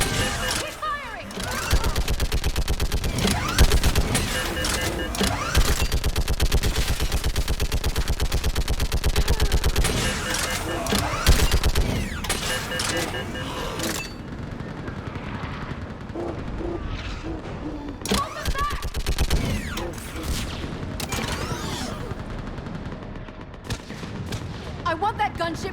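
Dense gunfire rages through a Mass Effect 3 battle, with rapid automatic bursts and heavy booming shots layered loudly and continuously, and shouted voices in the mix.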